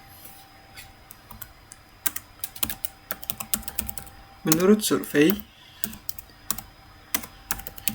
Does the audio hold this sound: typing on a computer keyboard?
yes